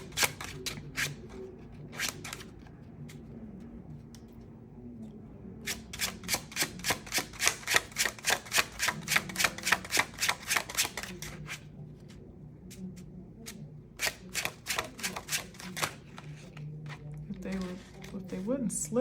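Tarot cards are shuffled in rapid riffling bursts, each a run of crisp, fast clicks at close range, with pauses between the bursts and a voice talking quietly in the background.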